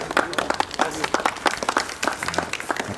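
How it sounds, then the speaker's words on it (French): A small group of journalists applauding the new Exagon Furtive e-GT car, with scattered hand claps close by while a voice talks over them. "Quand on applaudit une voiture, c'est bon signe"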